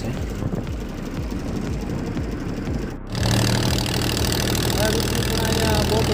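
A boat engine rumbles steadily on the water near the crossing to Shialbet island off Pipavav port in Gujarat, a low, throbbing drone that suddenly grows louder and fuller halfway through.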